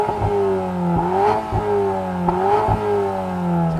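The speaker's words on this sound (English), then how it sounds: "Let's have a listen to yours then, Sam, the latest car." A Volkswagen Golf R engine revs repeatedly, rising and falling in loud rhythmic pulses at close range with a strong harmonic drone, heard on its own without talk.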